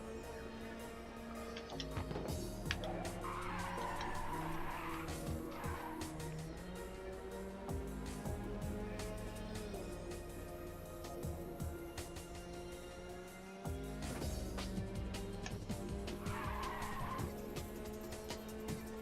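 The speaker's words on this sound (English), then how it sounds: "Actually end up getting more off these corrective drifts." Tires squeal repeatedly during corrective drifts in the racing game Ridge Racer 2 on PlayStation Portable, with long skidding screeches over a constant engine drone and game music.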